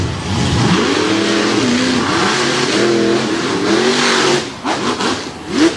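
Two monster trucks roar off the start line at a Winchester monster truck event, engines revving hard and loud, with rising and falling pitch sweeps as they accelerate and shift, fading slightly near the end.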